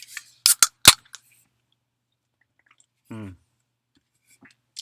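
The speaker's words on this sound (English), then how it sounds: "Let me open a beer." A beer is opened with a quick cluster of sharp, close clicks and pops, followed by silence and a short burst of voice.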